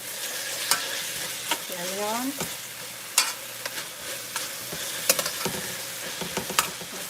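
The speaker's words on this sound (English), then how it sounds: "so we have this frying up there" Ginger fries in a pan with a steady sizzle, broken by sharp scraping clicks of stirring at irregular moments, close up, with a brief spoken remark.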